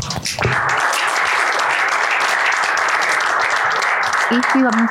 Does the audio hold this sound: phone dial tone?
no